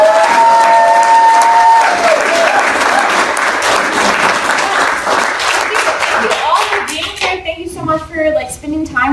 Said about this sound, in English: can we just take this for a round of applause?